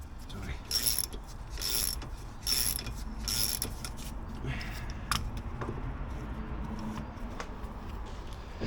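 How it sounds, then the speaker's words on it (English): Hand-tool work on the brakes of a Porsche 996 as a caliper is removed: metallic clicks, ratcheting and scraping in irregular bursts, close by, with some sharp knocks. "we've almost got this one caliper off"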